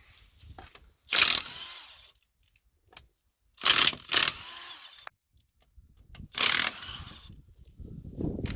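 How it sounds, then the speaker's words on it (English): A power tool with a 19mm socket and extension spins off car lug nuts on a Town & Country or Dodge Caravan, three loud, short bursts of whirring and rattling with quiet gaps between them. "We're going to be using our 19mm. Pop the extension on, remove the lug nuts."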